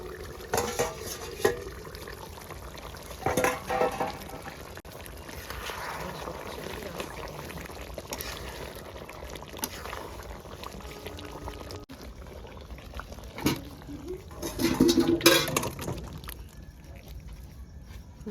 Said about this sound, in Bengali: ফুটে উঠুক তারপরে নামিয়ে নিচ্ছে